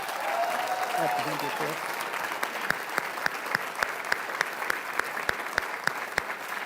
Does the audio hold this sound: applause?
yes